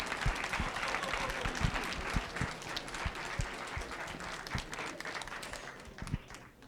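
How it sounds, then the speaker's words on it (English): Steady applause from an audience at a data science competition event, fairly close and sustained for several seconds with a few sharper individual claps standing out, fading slightly at the end. "just take a minute to give yourselves a round of applause for doing a great job"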